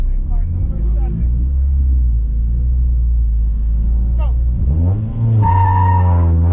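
Honda Civic EK hatch at an autocross event, engine droning loudly and close at steady speed, then revving up harder near the end, with a voice talking over it.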